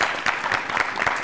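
Applause from a school quiz audience, many hands clapping in a steady, fairly loud patter over a short burst.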